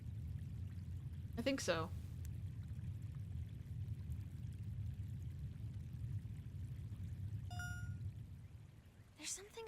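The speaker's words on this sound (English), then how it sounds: "There's something about flowing water that's just so soothing." Flowing water in the horror video game Project Songbird makes a steady pouring, trickling rush throughout, while a voice speaks briefly and a few short tonal game sounds cut in.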